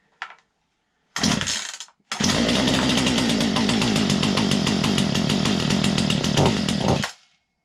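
A Poulan chainsaw with its choke pulled fully out is yanked over, then catches and runs at a loud, steady high rev for about five seconds before abruptly cutting out to silence.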